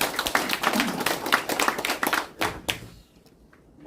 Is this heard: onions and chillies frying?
no